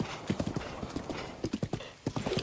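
Horse hooves galloping in the video game Breath of the Wild, a steady rapid clip-clop rhythm running throughout with brief whinnies, moderately loud with faint talk in the background.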